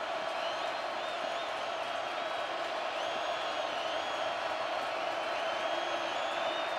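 A huge football stadium crowd at a USC versus Washington college game roars steadily on a third-down play, a dense, sustained wall of distant cheering and noise with no break.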